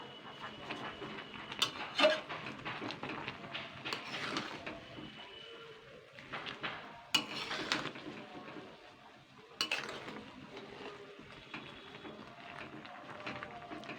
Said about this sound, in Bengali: নিচের কচু শাকগুলো কিন্তু ওপরে তুলতে হবে এরকম খুন্তি দিয়ে দিয়ে